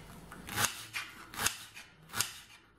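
Knife cutting kohlrabi or zucchini into small pieces on a board, three or four soft, crisp slicing strokes at an even pace, close and quiet with no talking.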